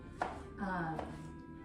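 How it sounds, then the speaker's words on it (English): A knife dices peaches on a cutting board in a few separate, close, quiet chops, with faint background hum between the strokes. "right now I'm just chopping these up into"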